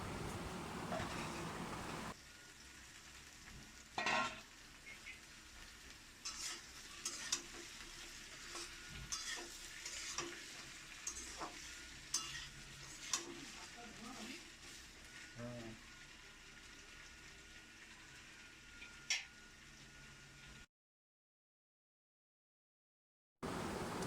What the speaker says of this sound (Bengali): পেঁয়াজটা লাল করে ভাজা হয়ে গেছে, ওর ওপর দিয়ে দেবো ফুলকপি আর আলু